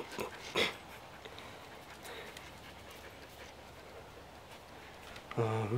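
A puppy whimpers and pants softly while stuck in a hammock, faint close breathing over a quiet background with a brief yelp near the start and another whine at the end.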